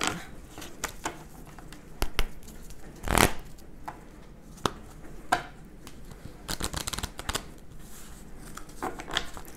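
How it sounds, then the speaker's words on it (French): Tarot cards being shuffled and handled, giving soft papery riffles and taps in a quiet room, with one louder burst of riffling partway through and scattered light slaps of the deck. "on va prendre une carte du tarot"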